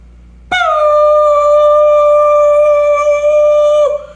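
A voice holds a steady, high, whining tone for about three seconds, imitating ringing in the ears, loud and unbroken before cutting off.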